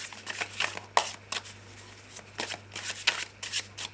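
Tarot cards are shuffled and cut by hand in quick, uneven bursts of riffling and soft slaps, close and crisp, with short pauses between handfuls.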